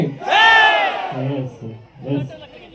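Crowd at a Vishwakarma community event cheers and shouts loudly for MLA Ashok Rai, a strong burst of raised voices that fades into scattered calls.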